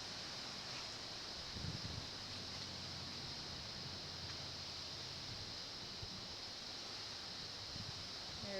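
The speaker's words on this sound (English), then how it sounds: "Wind is picking up." Wind blowing outdoors ahead of Hurricane Jeanne: a steady broadband rush with microphone buffeting, continuous throughout, plus a few faint low thumps.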